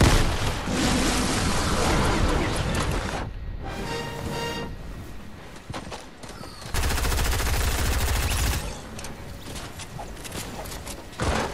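Grenade blasts and heavy gunfire in Fortnite during the Travis Scott event, loud and dense with rapid bursts that briefly thin out mid-clip before another booming, continuous barrage, no voices.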